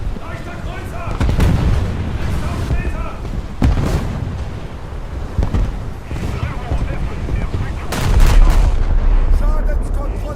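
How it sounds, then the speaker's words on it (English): Warship secondary guns firing in a naval battle game with battleships and cruisers, heavy booms repeating at irregular intervals amid rumbling explosions, while someone talks over the cannonade. "Still firing secondaries."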